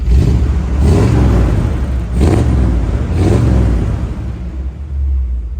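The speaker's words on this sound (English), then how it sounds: "Let's give this thing a rev." A 1957 Chevrolet Bel Air's V8 engine revs loudly three times in quick succession, each burst swelling into a deep rumble before settling back to a throaty idle.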